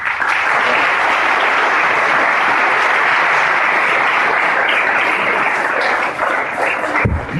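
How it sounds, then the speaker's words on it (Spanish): A church audience gives a priest, Padre Ramiro, a sustained round of applause, a dense wash of many hands clapping that stays strong before tapering near the end. "Démosle un fuerte aplauso al Padre Ramiro."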